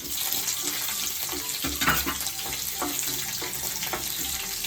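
Urad dal, chana dal and chopped green chillies frying in oil for vermicelli upma, giving a steady close sizzle with a few clinks of a stirring spoon and no talk.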